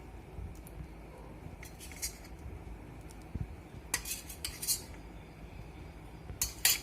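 Rava idli batter of semolina and curds being stirred in a bowl, giving soft scraping and occasional spoon-on-dish clinks, quiet and irregular, with sharper taps toward the end.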